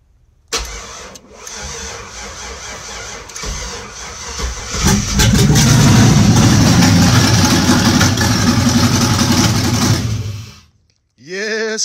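A turbo LS-swapped Chevrolet S10 cranks, fires and settles into a loud, rough idle close by, then cuts out near the end before a short restart whir.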